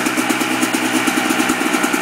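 A Kawasaki KDX motorcycle engine idling up close, a steady fast even putter with regular pulsing beats and no revving.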